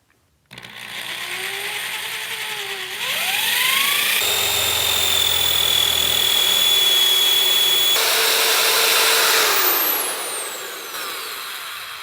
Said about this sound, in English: drill through these 4 holes.